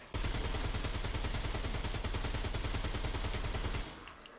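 Rapid, continuous gunfire from a shotgun and pistol aimed at zombies in a video game, a dense loud stream of shots that stops abruptly near the end.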